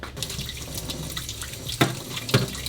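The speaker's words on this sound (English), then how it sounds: "rinse that out with the water" Tap water runs into a cooking container being rinsed out in a kitchen sink, a steady close splashing with a couple of louder gushes as the container shifts under the stream.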